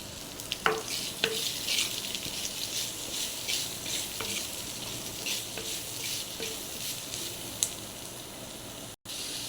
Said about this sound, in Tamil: இது நம்ம வதங்குறதுக்கு கொஞ்சோண்டு சால்ட் உப்பு போட்டுப்போம் அப்போ கொஞ்சம் ஈஸியாக நமக்கு வதங்கிடும்